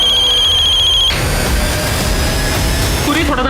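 A telephone rings with a steady electronic trill for about a second, then stops, leaving loud broadband background noise while a voice talks.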